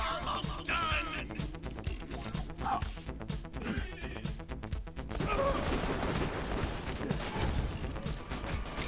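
Sustained rapid machine-gun fire in Borderlands 2, dense and continuous at close range with a busy mix of other combat sounds layered in.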